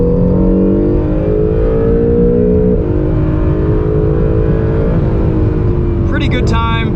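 A 2020 Acura NSX drives hard on Gingerman Raceway, heard from inside as a loud, sustained engine roar climbing and shifting through revs, with a brief sharp sound near the end.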